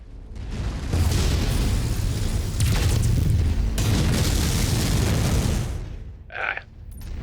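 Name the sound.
mech missile explosions in the video game MechWarrior 5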